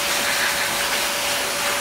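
A blow dryer used for grooming an African grey parrot gives a steady, broad rushing whoosh with a faint constant whine, loud and close, unbroken throughout.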